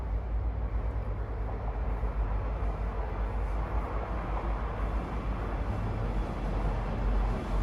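A train rumbles by in the background, a continuous low, steady roar that holds for several seconds with no break and no one talking.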